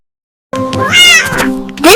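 A barn cat on a farm gives a close, clear meow, drawn out and rising at the end, heard alone.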